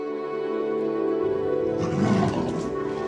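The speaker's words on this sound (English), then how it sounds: "It is the call of the mother rhinoceros. The sharp sound carries for 3 miles, bearing a message of fury." A mother rhinoceros gives a loud, harsh roaring call in the wild, a sustained tonal bellow that turns rougher and noisier midway before fading, close and alone.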